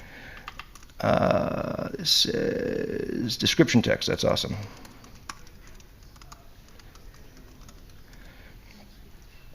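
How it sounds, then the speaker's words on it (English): Keys are typed at an awkward angle on a computer keyboard during a LiveView Native conference talk at ElixirConf EU 2024, giving a brief cluster of sharp clicks around a man's speech, followed by quieter room tone. "it's a little bit difficult typing in this angle right here"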